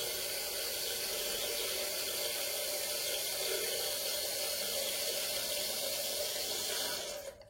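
A toilet cistern refills through its float valve with a steady, loud hissing rush of water that runs continuously before cutting off abruptly at the end.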